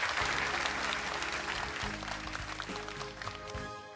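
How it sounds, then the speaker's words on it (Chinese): Audience applause in a TV variety show studio, a burst of clapping from a crowd that carries on under a swelling band intro before fading toward the end. "来，掌声鼓励鼓励"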